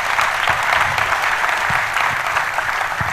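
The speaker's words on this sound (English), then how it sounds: "if you want to clap, please put your hands together" Steady applause from a church audience at a talk on career transitions, dense and continuous throughout with no pause.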